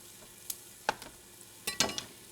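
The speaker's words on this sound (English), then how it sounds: "on the large holes of your cheese grater, just go around with your zucchini" Zucchini rubbed over the large holes of a cheese grater, heard as a few separate scraping strokes spaced unevenly against a quiet background, with no talking.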